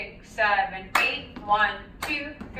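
Hand claps marking a solo jazz Boogie Back step, a few sharp claps spaced across the count with a voice counting along between them.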